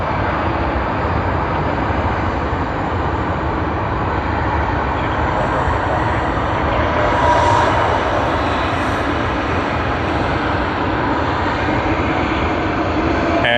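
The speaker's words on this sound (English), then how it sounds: "And that is American Airlines Boeing 777-300ER." An American Airlines Boeing 777-300ER jet passes at Sydney Airport, a steady broad engine roar that holds loud for the whole stretch, swelling slightly midway.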